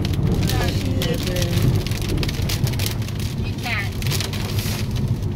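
Hail pounds a car during a storm while it is being driven, a dense, loud and continuous drumming on the body and roof, with a voice speaking underneath.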